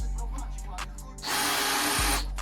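A power drill whirs loudly for about a second after some quieter clicks and handling sounds, close by, drilling a hole in plastic while assembling a Beta RR motorcycle.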